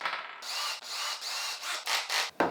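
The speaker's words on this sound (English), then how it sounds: "I forgot to drill a hole in the backplate." Cobalt drill bit, 10 mm, boring a hole through an aluminium backplate for an LED wall panel: several loud, close bursts of high whining drilling, with short gaps between them.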